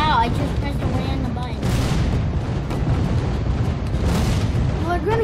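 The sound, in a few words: cannon firing in Skylanders: Spyro's Adventure video game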